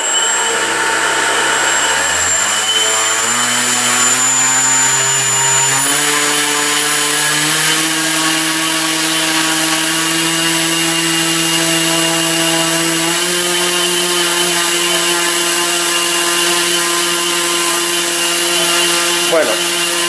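An electric motor driven by an ESC winds up under throttle, its loud whine stepping upward in pitch over the first few seconds, then holding a steady high tone with a bright electronic hiss above, close and continuous.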